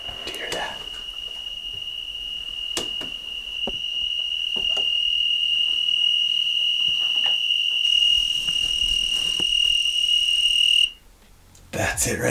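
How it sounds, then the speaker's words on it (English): A small flying insect gives off a continuous high, piercing chirp that holds steadily for about eleven seconds and then cuts off abruptly, loud and close, with a few faint knocks beneath it. "That little fly right there is making all that noise."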